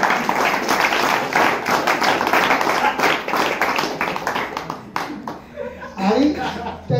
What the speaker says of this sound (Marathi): त्यासाठी टाळ्या